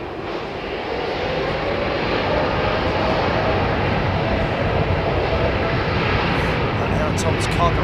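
A cargo Boeing 747 jet passes at an airport, a steady broadband engine rumble that swells slightly and holds loud and continuous, with people talking over it.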